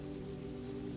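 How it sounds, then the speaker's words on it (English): Rain taps against a cottage window on a night in an old brick house, a soft continuous patter at low volume throughout, with a faint steady hum underneath. "listening as the rain tapped against the window"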